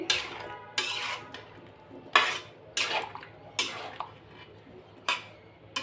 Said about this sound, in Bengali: এই আমটা কষিয়ে নিচ্ছি